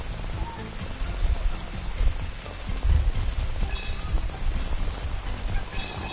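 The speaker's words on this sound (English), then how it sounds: "Oh, it's raining." Video game rain in Astro's Playroom patters on a surface, a dense, continuous spray of drops with a few heavier thumps mixed in.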